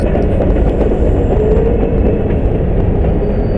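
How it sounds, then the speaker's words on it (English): A loud, steady train rumble fills the clip, with a faint rhythmic clatter of wheels on track running throughout and no voices. "you have to love that train sound."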